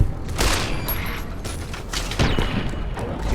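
Gunfire in Fallout: New Vegas: a dense, noisy burst of shots around the half-second mark and another near 2.2 s, with a continuous loud game soundscape in between and no talk.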